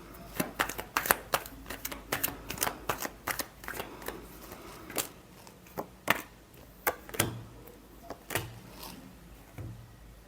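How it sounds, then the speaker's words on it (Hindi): Tarot cards are shuffled by hand in quick, crisp riffles and slaps, a close run of rapid snapping clicks that thins into a few separate taps near the end. "Last shuffle."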